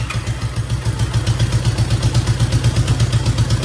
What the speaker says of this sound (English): Now what I'm going to do is start the motor